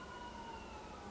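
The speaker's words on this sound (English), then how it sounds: "I apologize for the sirens going off" Emergency sirens wailing outside, a faint, steady high tone heard through a room, sliding slightly in pitch with no other sounds around it.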